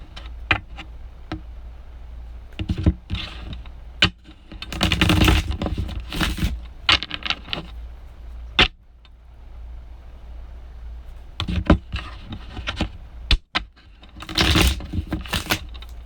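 An Egyptian tarot card deck being shuffled in short riffling bursts separated by pauses and small taps, close and fairly quiet, with no talk.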